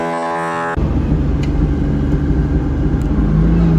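A cheap drift-build car pulls away, its engine note jumping into a loud, sustained low rumble and revving that fills the clip after a brief tonal sound at the start.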